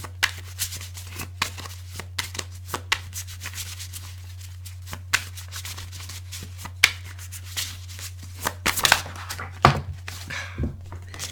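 A deck of tarot cards is shuffled by hand: soft irregular rubbing and riffling with scattered light taps and slaps, close by over a low steady hum, no voices.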